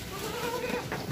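A PE goat bleats once in a goat pen, a short wavering call that is fairly close against a noisy pen background.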